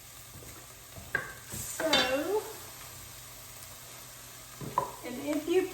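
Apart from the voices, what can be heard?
sauteing onions in butter and olive oil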